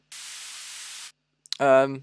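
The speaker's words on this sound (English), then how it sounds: "I add a bit of white noise as well" A burst of synthetic white noise in an electronic music track hisses steadily for about a second and then cuts off, followed by a short tonal note.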